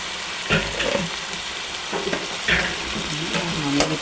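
Coriander and chili powder lightly frying in a pan for a liver roast, a soft continuous sizzle with several scraping stirs of a spoon, close and fairly quiet, no voices.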